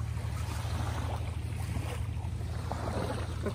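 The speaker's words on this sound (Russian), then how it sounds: "здесь слышен генератор очень хорошо" Steady low generator hum running on the island shore of Ukulhas, a continuous drone mixed with wind and surf noise, constant and moderately loud with no voices.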